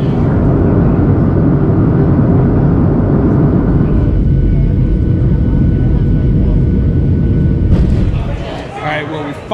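Airplane cabin drone from a flight to Montana, a loud, steady, broadband roar held close for most of the stretch before easing off near the end.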